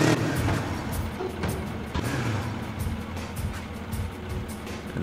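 A cart set free on a rotating hinge wheel rolls away in the Trials HD map editor, giving a steady rumbling, motor-like drone with scattered clunks throughout, fairly loud and with no voices.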